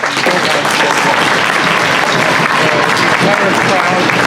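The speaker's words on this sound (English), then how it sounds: "the entire crowd claps their hands and Squire goes to the bench" A crowd at a 2020 women's ice hockey game between PWICE and Sacred Heart applauds loudly and continuously in the arena as an injured player heads to the bench, while a commentator talks over the clapping.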